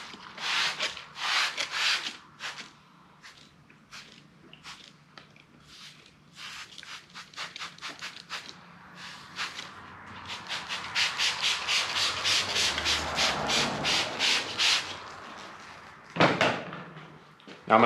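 A stiff carpet bomber brush scrubs car carpet in quick rhythmic strokes, with bursts of close, raspy rubbing separated by short pauses, then a longer steady run of fast back-and-forth scrubbing.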